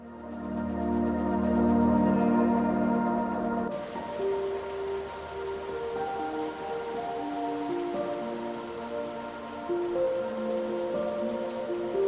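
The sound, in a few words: rain falling in Meghalaya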